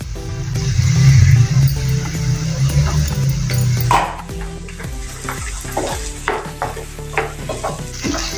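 A spoon scrapes and stirs through thick tomato puree in a hot pan, with a soft sizzle and irregular clacks of the utensil against metal.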